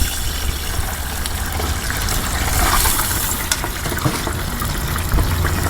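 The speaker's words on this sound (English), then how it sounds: "Allow some of the oil to drip off." Steady oil trickling and dripping, a continuous wet patter with a few louder drops near the end, no voices.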